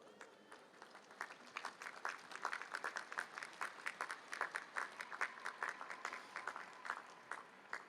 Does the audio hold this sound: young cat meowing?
no